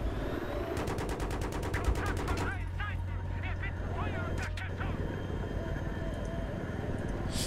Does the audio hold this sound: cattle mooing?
no